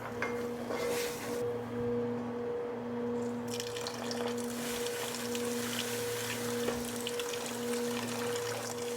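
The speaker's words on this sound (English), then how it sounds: "And I'm going to add water." Water pours steadily from a tap into a pot of pot roast for several seconds, a continuous splashing stream with a low steady hum underneath and no talking.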